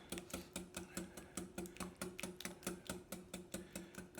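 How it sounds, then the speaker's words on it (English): Thin cheese blintz batter whisked by hand in a bowl, a steady fast rhythm of clicking, rattling strokes, close and fairly loud, with no talking. "You can do it by hand with a whisk like I'm doing it"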